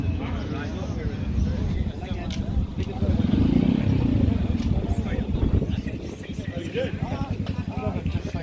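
Small-bore motorbikes out on a group rideout in Scotland, engines buzzing and rumbling steadily nearby and rising slightly mid-way, with people talking over the engine noise throughout.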